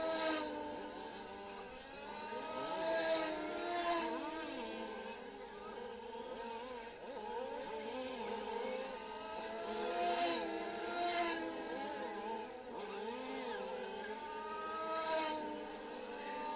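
Radio-controlled touring and Formula 1 model cars race around a track in Lostallo during semi-final heats, a steady high-pitched whine of small motors rising and falling in repeated passes.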